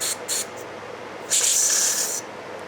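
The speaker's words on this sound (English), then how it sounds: "I'll shoot a little bit of carb spray into all these bottom holes down here" Carb cleaner sprayed from an aerosol can into the bottom holes of a Troy-Bilt mower carburetor: two short hissing bursts, then a longer steady spray lasting nearly a second, close and fairly loud.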